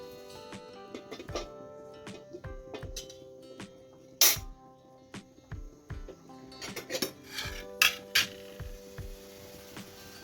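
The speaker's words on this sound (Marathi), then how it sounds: "कढई ठेवूया." A metal kadhai set down on a home gas stove beside a pasta pot, giving several sharp clanks and knocks of cookware scattered through the stretch, the loudest near the middle and a cluster toward the end.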